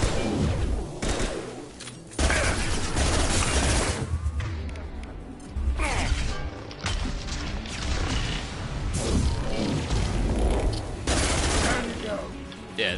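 Submachine gun fire in Mass Effect 2 comes in loud rapid bursts at point-blank range, broken by short gaps, with crashes and impacts mixed in as a player talks over the shooting.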